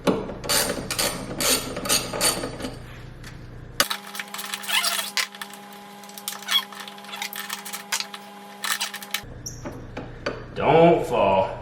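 Ratchet wrench backing out two 10 mm bolts while a flex fuel kit goes in, close and loud, with rapid clicking bursts early and late and a steady tonal hum through the middle.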